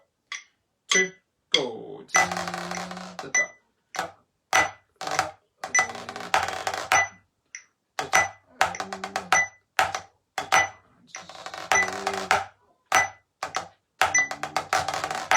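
Snare drum exercise for beginner to intermediate players, with sharp sticking strokes and a big swing ending, closing on a quick seven-stroke roll. The strokes are clear and close, grouped in repeating rhythmic phrases with short gaps between them.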